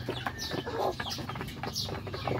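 Free-range Rhode Island Red chickens cluck while eating, with soft overlapping clucks and pecking noises close by in steady, busy chatter.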